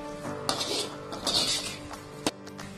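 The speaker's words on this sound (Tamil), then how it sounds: "சோயா சாஸ் சேர்த்து நல்லா கலந்து விட்டதுக்கு பிறகு" Masala stirred with soy sauce in a pan for Malaysian rice noodles, with faint metallic clinks and scrapes of a utensil against the pan, including a sharper clink near the end, quiet and close.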